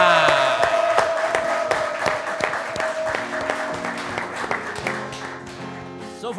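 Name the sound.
audience applause for singer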